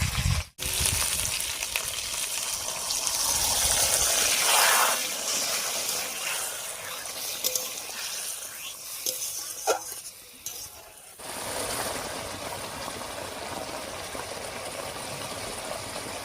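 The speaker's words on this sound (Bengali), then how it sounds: "এবারে মশলা বাটা জল দিয়ে একটু কষিয়ে নেব" Ground spice paste with water sizzles and bubbles in a pan while being cooked down for magur fish, with a steady close hiss and occasional stirring scrapes.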